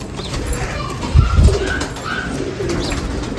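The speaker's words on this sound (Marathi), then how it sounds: "ह्या आपण ती खरेदी केलेली आहे ते कबूतर तुम्हाला दाखवतो" Low, soft pigeon coos swell briefly in the middle, set against a steady background of faint chirps and ambient noise.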